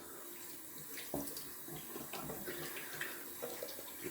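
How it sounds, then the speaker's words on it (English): Hands rinsed under running tap water at a sink, a steady close splashing stream with small shifts in flow, no talking. "Rinse off my hand."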